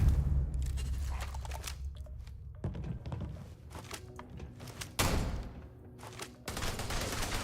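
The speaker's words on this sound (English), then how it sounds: "Someone's using schmancy energy weapons." Energy weapons firing in the sci-fi game Starfield, a string of sharp blasts and bursts in irregular clusters, loud and close, some with abrupt crunching onsets over a low rumbling background.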